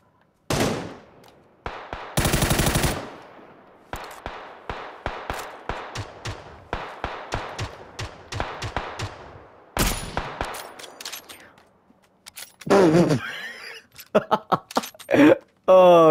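Rapid bursts of automatic gunfire from PUBG: Battlegrounds on the snowy Vikendi map, loud, close shots in quick strings with some lone cracks and pauses, with occasional player talk between them.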